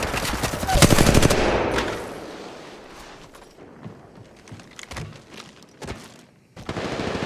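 Gunfire in the mobile shooter Apex Legends Mobile: a loud rapid burst of automatic fire, then scattered shots and short bursts, all close and sharp.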